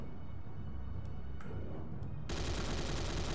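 Gunfire in a shooter video game, a dense broadband rattle that comes in a few sharp cracks early on and then becomes a sustained loud burst of shots until the end, with no voices.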